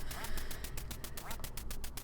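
Ducks in the NES game Duck Hunt, a quick run of loud, repeated quacks over steady electronic game noise, close and without talk.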